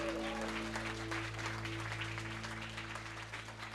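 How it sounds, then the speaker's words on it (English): Guests at a wedding reception give the wedding party a sustained round of applause, dense and steady clapping from a crowd in a hall, with some voices mixed in. "Please bring another round of applause to our wedding party."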